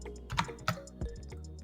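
A few distinct key presses on a computer keyboard, close and crisp, with a keyboard shortcut for creating a table in an Excel spreadsheet being entered. No voices are heard.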